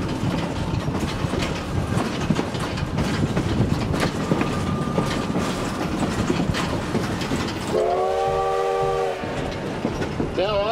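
A train rolls along the historic V&T railroad with steady rumble and clickety-clack of wagons, a horn sounding briefly near the end; continuous and close, with no talk.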